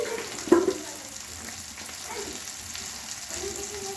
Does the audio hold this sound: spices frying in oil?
yes